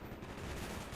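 A short burst of loud, steady gunfire in a Call of Duty campaign level, dense and unbroken for about a second with no voices.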